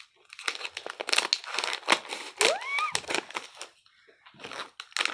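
A plastic bag of Disney mystery keychains is handled and torn open up close, loud rustling crinkles and tearing in uneven bursts with a brief squeaky stretch of plastic.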